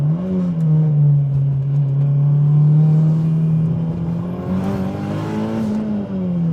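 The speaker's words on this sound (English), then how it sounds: "Can rev match it pretty easy." Mitsubishi Lancer Evolution IX engine revving up sharply during a heel-toe rev-matched downshift, a loud, close, steady drone that climbs and falls as the gear changes, with no talking.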